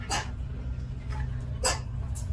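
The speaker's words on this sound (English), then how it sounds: "Cute dog." A dog gives a few short barks or yips at moderate distance, three brief bursts spread over a couple of seconds above a steady low background hum.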